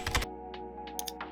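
Close, quiet keystrokes on a computer keyboard: a quick cluster of clicks, then several separate taps spaced irregularly over a steady low electrical hum.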